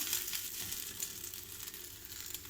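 Poha roti frying in hot oil in a pan, giving a steady, dense crackling sizzle that holds close and even throughout with no talking.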